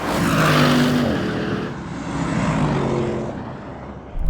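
An Audi RS6 and a Tesla Model X launch in a drag race, a loud broadband engine roar and whoosh that peaks early, fades as the cars pull away, then swells slightly again.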